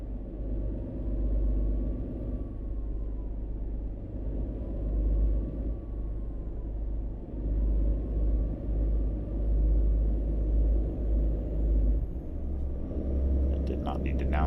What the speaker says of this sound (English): You can hear the turbo right there.